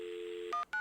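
Telephone in the full-motion video game Tender Loving Care gives a steady dial tone for half a second, then two short keypad tones follow, clear and alone.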